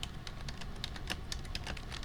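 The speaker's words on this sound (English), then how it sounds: "If you don't know what I'm typing right now" Rapid typing on a computer keyboard, a quick irregular patter of key clicks heard close up and alone throughout, with no speech.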